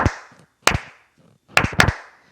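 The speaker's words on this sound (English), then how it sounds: "Like let's say that I'm clapping my hands in a rhythmic pattern." Hands clap close by in a rhythmic pattern: a single clap, a pause, another single clap, then two quick claps, each sharp and loud with brief room echo, no voice over them.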